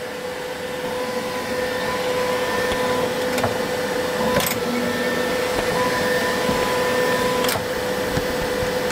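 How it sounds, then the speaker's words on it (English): A Bambu Lab X1 3D printer homing over a steady fan hum, with short motor whines and several sharp clicks as the axes move. "The printer is homing again."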